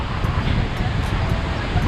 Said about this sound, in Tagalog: buti tumigil ang ulan, nalakas pa rin ang hangin